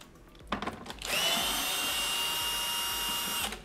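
A power screwdriver or drill runs on an espresso machine while its Security Torx screws are unscrewed. After a short buzz, a steady high-pitched motor whine holds for about two seconds and then stops, close and clear.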